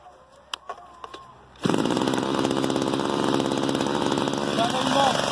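A petrol chainsaw is primed and pull-started, a few short cord-pull bursts giving way to the engine catching and running loud and steady up close, its buzzing drone continuing to the end.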